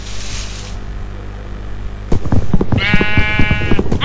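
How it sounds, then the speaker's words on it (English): A sheep bleats once in the video game Minecraft: a clear, wavering bleat after a few thuddy footsteps, loud and close against a quiet ambient background. "in this place, there's lot of sheep"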